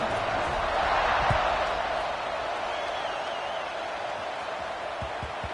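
A stadium crowd in a College Football 26 video game buzzes after a score, a dense, steady roar that stays loud throughout and eases slightly partway through.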